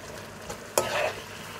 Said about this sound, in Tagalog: kunting halo-halo na lang